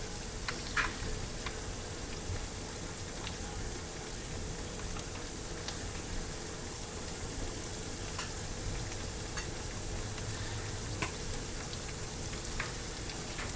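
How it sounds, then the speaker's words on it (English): Fish frying in oil in a pan gives a steady, close crackling sizzle with scattered pops, continuous and without talk. "fry your fish until you're done"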